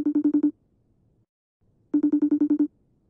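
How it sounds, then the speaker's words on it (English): A FaceTime video call rings on a phone in two bursts of rapid, evenly pulsed tones, loud and close, separated by a short silence. "He not answering my FaceTime."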